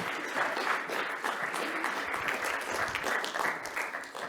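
An evening audience applauds a musician, a steady, fairly close round of clapping sustained throughout without pause or voices.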